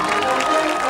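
A high school football crowd at a Friday night game between North Haven and Fairfield Prep cheers in a brief, dense, continuous roar of many voices at moderate distance.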